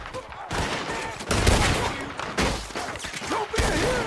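Gunfire in the Western video game Red Dead Redemption 2: dense, overlapping volleys of shots in a sustained firefight, with voices shouting over the shooting throughout.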